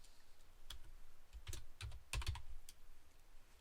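Computer keyboard typing in short, irregular bursts of keystrokes, close and fairly quiet, with clusters of clicks around the middle and brief pauses between them and no voices.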